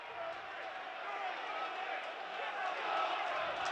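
Football stadium crowd at a Burnley v Southampton Premier League match, a steady broad roar of massed voices that swells slightly toward the end, with commentary talk over it.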